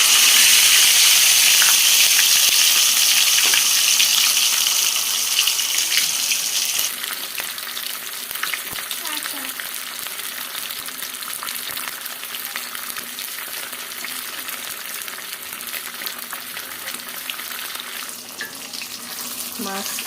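Marinated tilapia fish fries in a pan with a steady spattering sizzle, loudest at first and then settling to a softer, even crackle, with occasional stirring and scraping noises.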